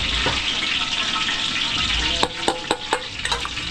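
Chop suey cooking in a pan for a catering job in Mexico, Pampanga: a steady hiss of sizzling oil, then a quick run of sharp utensil clanks against the pan as the food is stirred.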